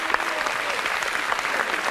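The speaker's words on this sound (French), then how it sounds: "on peut l'applaudir très fort" A French television talk-show studio audience applauds steadily, a close, even wash of many hands clapping with no pauses across the short stretch.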